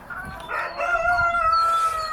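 A rooster crows a long, rising call, with another rooster's crow overlapping it, over faint background noise on a farm with many roosters.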